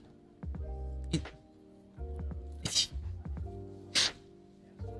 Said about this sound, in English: Sorry, just sneezed a bit.